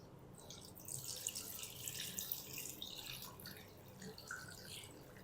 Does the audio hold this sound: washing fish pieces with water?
yes